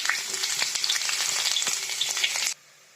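Chopped onions sizzle loudly in hot oil with cumin seeds, with a few stirring clicks before the sound cuts off abruptly near the end; no talking.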